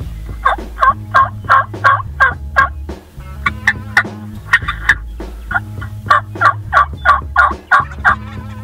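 A wild turkey gobbles over and over in quick rhythmic bursts during a Nebraska hunt, backed by the low, steady pulsing drum of its chest thumping beneath the calls.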